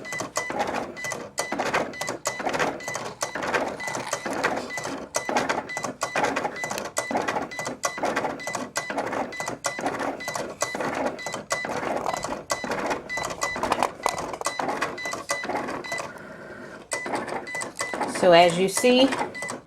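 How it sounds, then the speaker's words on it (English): Cricut cutting machine cutting out a design of small circles, rapid repetitive mechanical ticking and whirring motor strokes, steady and close, with a brief voice near the end. "the Cricut is cutting out each individual circle of that design"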